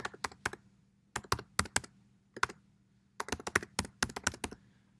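Login details typed on a computer keyboard in quick bursts of crisp, close keystrokes separated by short pauses, with a faint steady hum underneath and no talk.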